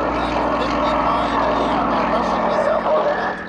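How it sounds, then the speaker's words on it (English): Yak aerobatic airplane rolling along the show line at the Abbotsford International Air Show, a steady loud propeller engine drone with a constant low hum, heard continuously under an announcer's talk. "as he rolls the airplane and continues to roll along the length of the show line"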